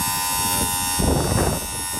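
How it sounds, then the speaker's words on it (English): Hydraulic pump on a combine harvester whirring steadily nearby as it is loaded, a continuous buzzing drone that briefly swells in the middle before settling back. "Hydraulic pump whirring away."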